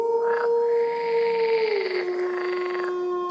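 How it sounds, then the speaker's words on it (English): Wolves howl in a long, wavering sustained cry that slides gradually lower, with a second fainter howl layered above, loud and clear for a few seconds as a story sound effect. "Wolves howled."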